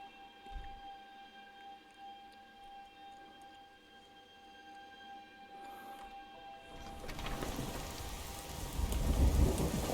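Video game thunderstorm in Skyrim near Whiterun, a faint steady rain hiss that swells into a loud, low rumbling roll of thunder and heavy downpour in the final seconds, with no voices.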